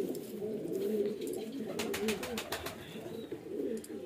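Pigeons coo softly in a loft holding old breeding birds, a low, continuous murmuring with a brief burst of higher fluttering or rustling midway.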